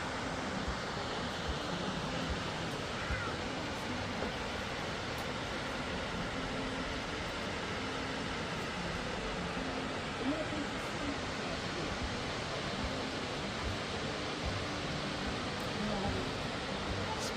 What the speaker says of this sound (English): Here's the view from Jersey Lookout back onto the waterfall.